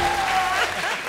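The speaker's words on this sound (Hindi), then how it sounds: "जोरदार तालियां" Enthusiastic audience applause on the comedy show Comedy Circus, a dense burst of clapping that fills the whole short moment at steady loudness.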